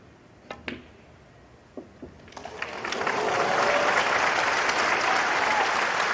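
Crowd applause at a snooker match in Shanghai breaks out and swells into sustained, loud clapping across the hall, following a few sharp isolated knocks.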